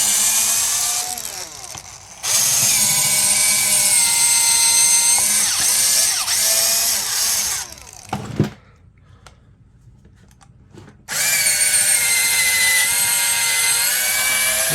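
A 1978 Makita cordless drill, an early battery model, whines loudly at high speed in two long runs, stopping briefly with a clunk before a quiet gap, then spinning up again.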